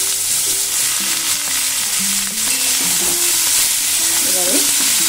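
Bottle gourd and mung dal fry in a pan, giving a loud continuous sizzle as they are stirred, with scraping tones rising through the steady hiss.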